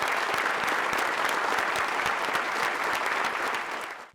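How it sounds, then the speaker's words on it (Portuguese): Long, steady applause from newsroom colleagues across São Paulo and other Brazilian cities, paying tribute to journalist Ricardo Boechat; dense, continuous clapping throughout, fading slightly at the end. "colegas das redações de São Paulo e várias cidades do país se uniram em um longo e doloroso aplauso"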